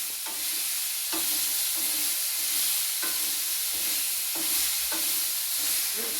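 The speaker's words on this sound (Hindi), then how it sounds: "धीरे धीरे आंच को कम करेंगे और इन टुकड़ों को नरम होने तक भूनते रहेंगे" Kadamb fruit pieces fry in a wok, with a steady sizzle under repeated scraping strokes of stirring at a regular pace, close and fairly loud throughout.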